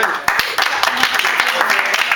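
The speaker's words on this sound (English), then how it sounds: "just give Jeff and Joe a round of applause" An audience applauds speakers at a city council meeting with a short burst of steady, close group clapping that fills the room.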